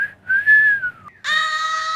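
A single person whistles a short tune, a clear bright melody that pauses briefly near the middle and then resumes with a louder held note.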